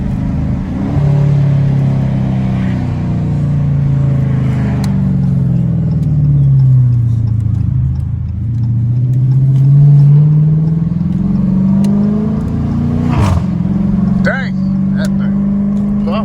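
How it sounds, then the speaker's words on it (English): Straight-piped Dodge Challenger R/T engine droning loud from inside the car, pitch climbing and dropping through gear shifts, with a sharp rev burst and pops near the end while people talk over it. "That thing popping, shifting."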